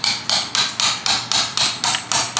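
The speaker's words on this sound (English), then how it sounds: "Smash it with a hammer!" A hammer strikes a block of clear homemade ice again and again, about eight sharp, close, evenly spaced cracking blows in quick rhythm with no talk.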